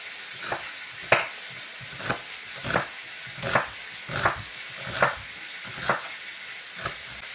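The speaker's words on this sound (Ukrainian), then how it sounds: "Цибулю нарізаю четверть кільцями." A knife chops through onion into quarter rings on a board in slow, regular strokes, about a dozen cuts, over a soft sizzle of frying meat; nobody speaks.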